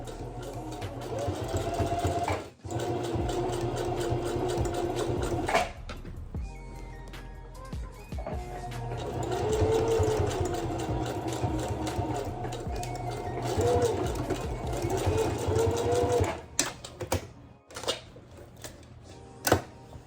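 Sewing machine stitching a flat hair closure unit, running in a steady continuous whir with brief stops and restarts as the foot pedal is pressed and released.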